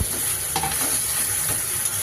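Fish head from rohu carp being stir-fried with potatoes and bitter gourd in a pan, a steady close sizzle running throughout with soft scraping stirs and no voices.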